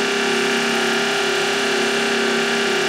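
A Tormach 8L lathe spins steadily at 2,000 RPM, a loud continuous machine whine with a strong sustained tone and no talk over it.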